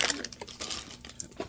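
Nail art foil crinkling as it is handled for chrome nail colours, a run of close, soft crackling rustles with small sharp ticks, no talk.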